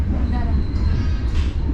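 Pariaman Express passenger train in Sumatra rolls along with a steady low rumble heard from inside a panoramic carriage, continuous and fairly loud, with faint tonal hums on top.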